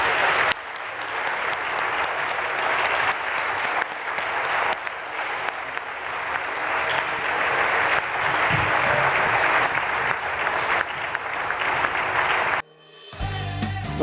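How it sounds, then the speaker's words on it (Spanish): Long, steady applause from an audience sending off round-table guests at a graphic novel and emigration panel, dense clapping that cuts off abruptly near the end into a different sound. "vamos primero a despedirlos como se merecen, agradeciéndoles que hayan venido y con el aplauso que merecen"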